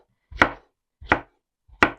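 Three crisp knife chops through hot chili peppers land on a cutting board, evenly spaced and close, with silence between each cut.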